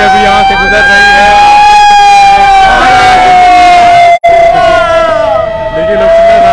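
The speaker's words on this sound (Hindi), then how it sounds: "देखिए लोकसभा थाना की जो गाड़ी है वो जा रही है, वो झंडा चौक से गुजर रही है सायरन बजाते हुए" A police vehicle drives through a crowded town square in Hazaribagh during a flag march, its siren wailing loud and close in a long sustained rising and falling tone over crowd noise and someone talking.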